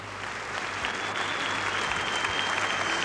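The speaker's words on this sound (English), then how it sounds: "I think that deserves some applause." An audience at a national song festival applauds steadily after a performance, a dense continuous wash of clapping from a large crowd that holds at an even level throughout.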